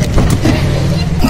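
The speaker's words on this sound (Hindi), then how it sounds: "तो गाड़ी निकाल लेते हैं" A dirty car being taken out, an idling engine rumbling steadily up close, low and continuous with faint speech-like traces.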